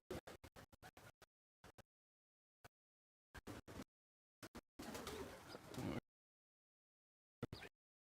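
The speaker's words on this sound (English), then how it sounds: "Pigeons. It's a really wonderful aviary because they can actually fly around in here." Pigeons in a roomy aviary with nesting boxes make faint, scattered sounds: short clicks and scratches in quick bursts, then a longer rustling stretch, with quiet gaps between.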